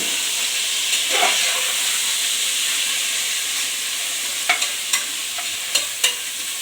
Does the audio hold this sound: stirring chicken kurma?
yes